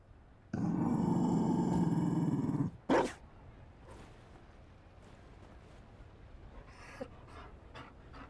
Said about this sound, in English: He has a Mabari.